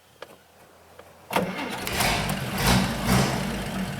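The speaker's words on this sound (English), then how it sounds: "you push the starter or the gas pedal here over to the right a little bit" A 1936 Chevrolet Master Coupe engine is started with the floor starter pedal, a few faint clicks giving way to a sudden catch and a rough, revving idle that swells twice up close.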